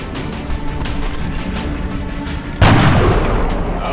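A gunshot fires in the X-Com strategy game, a single sharp boom cutting in near the end over a steady bed of game background sound.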